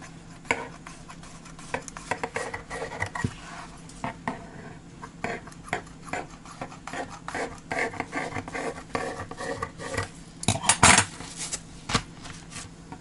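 A knife cuts through lavash flatbread with repeated scraping and tapping strokes against a board, irregular in rhythm, close up, with occasional clinks.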